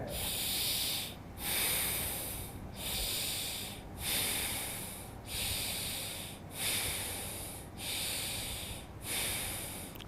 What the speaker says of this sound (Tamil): இடது நாசிலே மூச்சை உள்ளழுங்க இடது நாசிலே மூச்சு வெளியே விடுங்க